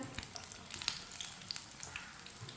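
Crispy egg pakoras bubble and sizzle in hot frying oil, a faint steady crackle with scattered tiny pops, heard alone.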